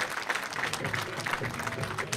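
Moderate applause from a gathered crowd at a political event, greeting guests as they arrive; scattered, uneven clapping at medium distance, continuing steadily with no voices over it.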